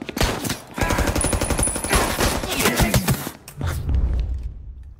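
Gunfire in the video game Mafia Definitive Edition, rapid bursts of repeated shots in a dense, loud volley that drop off near the end.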